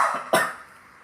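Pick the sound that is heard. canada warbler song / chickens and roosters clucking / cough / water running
cough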